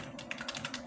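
Rapid, light clicks of a computer keyboard being typed on, a quick close string of keystrokes heard alone with no voices.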